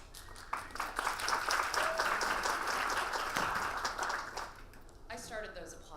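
Audience applause at a panel discussion on creating an inclusive culture, a sustained wash of clapping from a room of people lasting several seconds before tapering off, with faint voices near the end.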